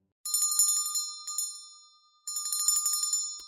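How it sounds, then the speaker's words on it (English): Town alarm bells ring in a mobile survival game, a rapid bright metallic peal in two bursts separated by a short silence, close and clear. "We sounded the bells."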